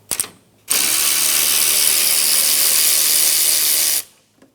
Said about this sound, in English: On the front side of the bumper support, remove the 10mm bolt on the condenser lines.